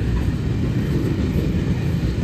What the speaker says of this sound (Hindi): यहाँ रेलगाड़ी जा रही है जी, मालगाड़ी बल्कि बड़ी लंबी है जी